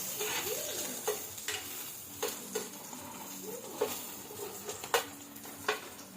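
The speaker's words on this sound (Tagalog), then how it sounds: "Gisa tayo ng bawang, bawang sibuyas, kamatis." Garlic and onion sauté in a pan with a steady hiss of frying oil, broken by sharp scraping and clinking from a utensil stirring at irregular intervals, with no talk.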